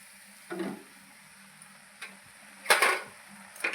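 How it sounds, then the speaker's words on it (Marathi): A spoon or skimmer stirs dal with dill greens, chili and salt in a pan over a high flame, making a few separate scraping strokes against a faint steady sizzle, close by and with no voices. "झाऱ्याच्या किंवा तुम्ही चमच्याच्या साह्याने डाळ तिखट मीठ आणि शेपूची भाजी अशी मिक्स करून घ्या"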